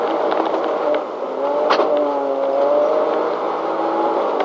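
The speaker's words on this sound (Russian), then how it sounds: "Проблема повторяется, мотор троит, двоит, и никакой скорости у нас нет." A rally car's engine runs rough and misfires during a Dakar 2020 stage, with an uneven, wavering whine that never builds into full revs. It drones steadily from close inside the car.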